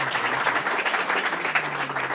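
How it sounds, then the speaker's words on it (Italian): Applause from an audience at a law awards ceremony, a steady wash of many hands clapping throughout, fairly distant and even. "vi chiedo un grande applauso"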